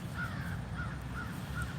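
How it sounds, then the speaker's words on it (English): Crows caw in the morning, four evenly spaced calls that sound moderately distant over faint background noise, with no voices. "The crows are really active this morning."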